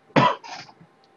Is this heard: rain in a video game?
no